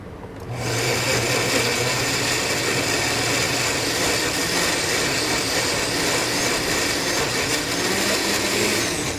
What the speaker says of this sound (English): I'm just using a very basic Oster blender